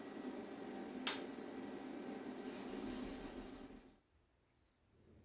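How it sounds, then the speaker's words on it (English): Hand sanding a metal sheath for a San Francisco Bowie knife to remove machine scratches: close, steady rasping strokes of abrasive on metal for about four seconds, then it stops. "And then I hand sand the sheath"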